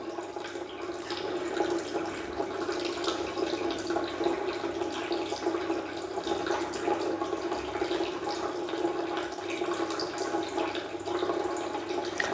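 A Tunze Osmolator 3 top-off pump pours water into an aquarium, a steady close trickle and splash running continuously with faint dripping and a low pump hum beneath.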